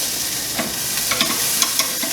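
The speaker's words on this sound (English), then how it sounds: "it's time to start with the searing" Tomahawk steak searing on a grill, a loud close hiss of sizzling fat with scattered crackles and spits, steady throughout and free of talk.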